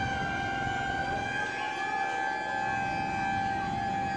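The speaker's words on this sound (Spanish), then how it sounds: "Se escuchan las sirenas" Sirens wail continuously in the distance during a strong earthquake in Cali, Colombia, a steady sustained tone over rumbling background noise.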